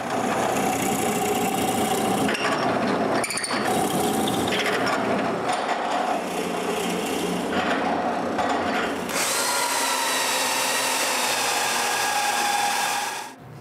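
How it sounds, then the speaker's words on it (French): A drill press bores holes into wood in a workshop during a mobile workbench build, its motor whining steadily and the pitch shifting as the bit cuts. A higher, clearer tone rings out near the end. "Ensuite, je peux percer les trous exactement comme la dernière fois."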